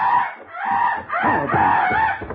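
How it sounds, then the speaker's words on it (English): A loud, harsh bird call repeats several times in quick succession, squawking and crowing-like, close and with no voices. "What's that noise? It's a bird, Lieutenant."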